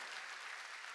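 Brief, faint wash of congregation clapping in a church during a Wednesday worship service, steady and distant, with no voices over it.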